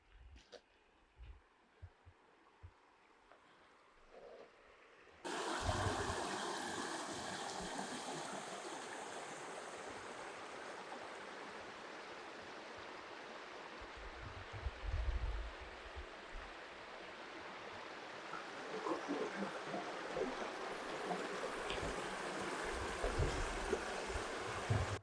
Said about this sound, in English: here's a nice little river.